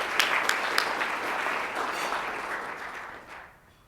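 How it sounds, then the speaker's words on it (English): Audience applause at a chamber of commerce annual meeting, a steady wash of many hands clapping at moderate distance that holds for about three seconds and then fades out. "Let's give them all a round of applause."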